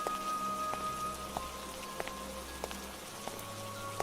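Heavy rain falls in a jungle as a steady wash of sound, with a faint regular ticking and low tones running through it.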